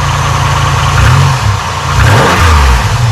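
A car engine, just restarted after trouble starting, revs loudly up and down close by, a deep rumbling that rises and falls twice in a few seconds with no talk.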